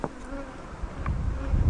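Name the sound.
honey bees buzzing around the hives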